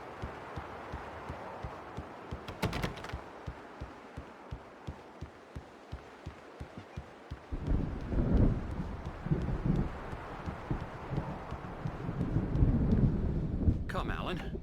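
Thunderstorm in the video game Alan Wake, with a steady rhythmic rumbling pulse that gives way to heavier, louder rolling thunder and rain noise in the second half.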